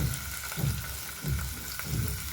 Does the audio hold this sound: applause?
no